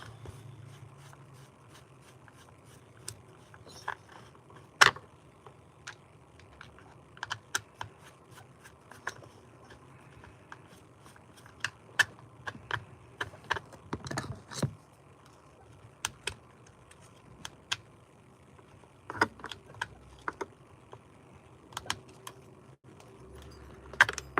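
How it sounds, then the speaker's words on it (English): Screws come out of a 565 cylinder in a long run of small, scattered metallic clicks and taps, quiet and close, with irregular pauses between them. "Let me try to get these screws out"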